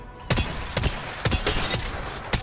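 Repeater 3030 lever-action rifle from Apex Legends firing five sharp, evenly spaced shots over about two seconds, each loud crack with a brief tail, no speech.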